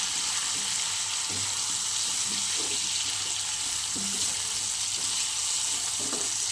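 Ground cumin and chili powder sautéing in oil in a pan, a constant dense hiss with faint spatula scrapes and a low hum underneath, no voices.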